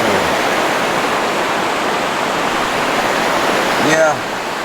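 A waterfall on a river in the Alone in the Dark game roars as a steady, loud, unbroken rush, with a brief tonal sweep near the end.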